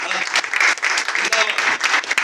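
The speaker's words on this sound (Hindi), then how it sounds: "आपके लिए जोरदार तालियां।" Church congregation applauding during a Sunday service, a loud, dense burst of clapping from many hands that continues steadily throughout.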